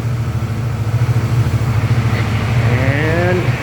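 A motorcycle engine runs loud and near, its low throbbing idle climbing into a rev near the end, with a voice talking briefly underneath.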